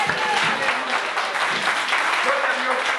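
A church congregation claps for Jesus during a Spanish-language sermon, a dense, continuous wash of applause from a crowd with voices mixed in throughout.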